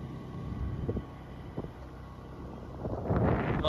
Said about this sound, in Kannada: ಮಸ್ತ್ ತಂಪು ಗಾಳಿ ಬಿಸತೈತ್ ನೋಡ್ರಿ